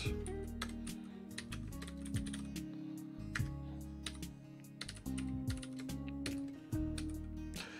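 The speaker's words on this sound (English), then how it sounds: "Your keyboard sounds great. Is it a mechanical keyboard? Yes, it is a mechanical keyboard. This is a Vortex" Fast, continuous typing on a Vortex mechanical keyboard gives crisp, close key clacks in uneven bursts, with heavier thuds mixed in and no voices.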